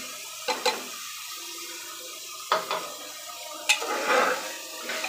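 Jackfruit seeds tipped into fried masala for a coconut curry with prawns and stalks, then stirred. Three distinct bursts of clatter and scraping rise over a soft background hiss, the last one followed by a brief wet sizzle.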